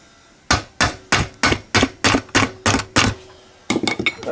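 Hammer striking an engine crankcase during a small engine shaft conversion, nine sharp metallic blows at an even steady pace, a short pause, then a quicker cluster of lighter taps, close and loud.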